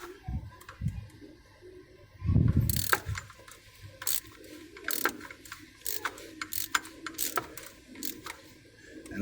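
Close ratchet wrench tightening an oil drain plug or filter on a Chevrolet HHR SS during an oil change, a burst of rapid pawl clicks followed by sparse intermittent ticks, with no talk.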